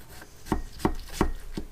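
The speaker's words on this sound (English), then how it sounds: "cutting around the rind" Knife cutting watermelon slices around the rind on a board: four crisp, evenly spaced chopping thuds in quick succession, close and clear with no talk.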